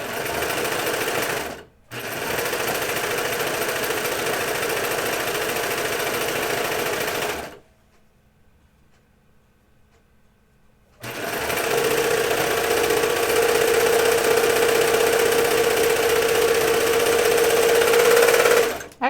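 A sewing machine runs a side seam on Hudson pants in long, fast, whirring bursts, first a short run, then a longer one, a pause of near silence, then another sustained stretch of stitching.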